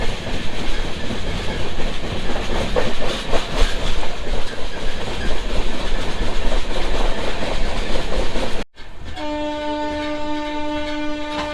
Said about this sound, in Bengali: আমাদের এই ধৌলি এক্সপ্রেসটি কিন্তু আজকে নিজের যাত্রা অতিক্রম করতে নিজের স্পিড ধারণ করেছে